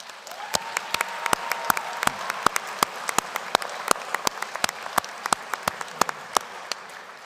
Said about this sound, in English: So let's have a round of applause for all the love in the room.